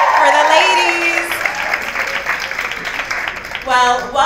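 An audience at an International Women's Day celebration claps and cheers through the whole stretch, a dense crowd sound with a voice talking over it near the start and end.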